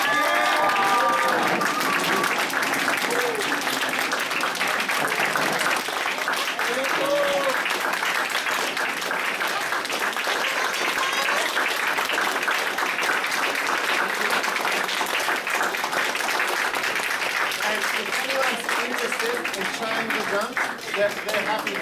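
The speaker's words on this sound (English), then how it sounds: "Everyone give them another round of applause." Audience applause fills the space after a Japanese drumming performance at Sunset Breeze, a dense, steady wash of many hands clapping for over twenty seconds, with some voices mixed in throughout.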